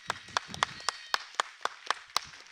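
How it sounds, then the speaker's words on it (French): Evenly spaced, crisp claps in a steady rhythm from an audience greeting three esports players on stage at a FIFA 23 playoff final, sounding sparse and fairly close with no voices. "merci de faire un tonnerre d'applaudissements pour les 3 joueurs alignés"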